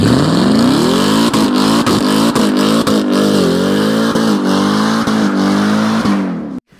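A powerful 800 wheel-horsepower Corvette Z06 engine revs hard and loud, its roar rising and holding with brief dips between pulls, very close and continuous.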